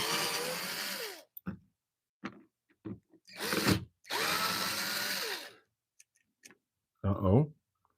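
A battery power tool backing bolts and screws out of a lathe in a woodturning shop, three or four bursts of whirring and ratcheting, each lasting one to two seconds, with short pauses between them and a voice talking in the gaps.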